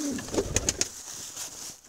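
A young pigeon coos softly a few times close by, with faint chirps from other birds in the background.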